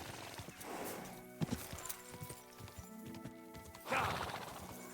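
A horse gallops in Kingdom Come Deliverance 2, with hoof clip-clops, a short neigh and some rustling at close range, fairly quiet overall.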